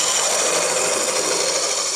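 A wood lathe turns a spindle with a steady, even whirring hiss that holds at a constant level throughout the short stretch.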